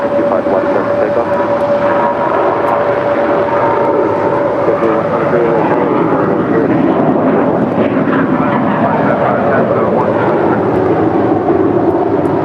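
An Airbus airliner departing runway 25 Left at LAX gives a loud, continuous engine roar, with a steady whine running through the broad rumble for the whole stretch.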